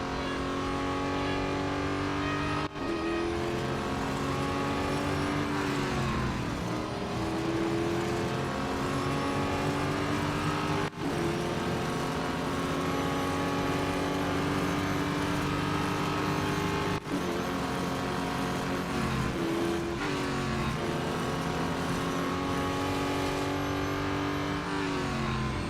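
Race cars in the mobile game Real Racing 3, including a Duqueine D08, with continuous loud engine whine shifting pitch through gear changes and slowing for corners over a long stretch, no voices.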